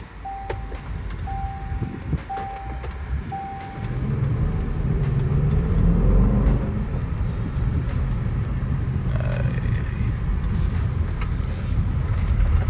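A Range Rover Sport SVR being driven, with a steady road and engine roar that swells after a few seconds of quieter cabin noise, including a brief chime tone, and then holds loud and continuous.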